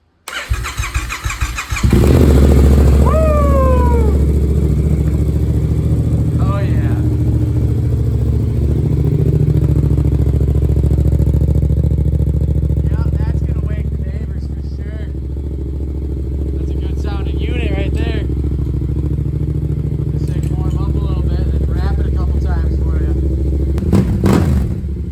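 A Yamaha FZ07 fitted with a full Hindle Evo exhaust fires up with a crank and a sharp, loud bark, then holds a deep, rowdy idle up close with a few throttle blips as someone talks over it.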